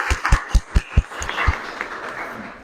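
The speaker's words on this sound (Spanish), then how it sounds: "aplausos" Audience applause at a book-talk event on resilience stories: a few crisp, separate claps open it, then a softer, scattered wash of clapping fades out.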